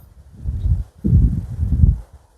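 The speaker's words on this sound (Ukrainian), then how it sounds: "Бачите, який вітер." Low, rumbling gusts of strong wind buffet the microphone in two bursts, a short one then a longer one, with brief quiet between.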